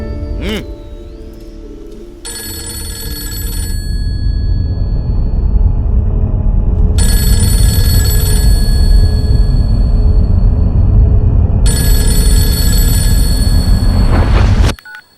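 Three bursts of a bright electronic phone ring repeat at steady intervals over a loud low rumble, cutting off abruptly at the end.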